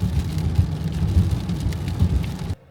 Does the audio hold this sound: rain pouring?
yes